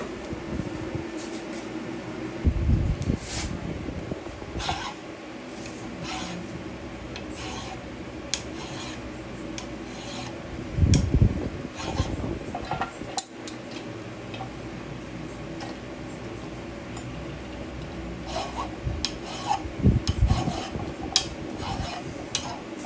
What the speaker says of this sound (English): I want to chamfer it a little bit along one edge there.